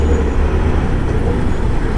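Steady road traffic near Pune, a dense low rumble of passing cars, buses and trucks, continuous and fairly loud with no clear individual vehicle standing out.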